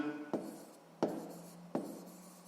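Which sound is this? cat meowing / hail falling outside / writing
writing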